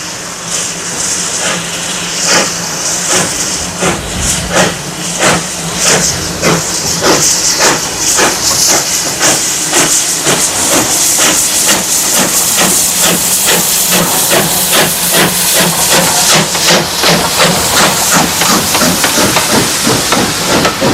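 A T9 steam locomotive hissing loudly while restarting on a bank between Harman's Cross and the next station, its chuffs coming in a steady rhythm that gradually quickens, close and continuous.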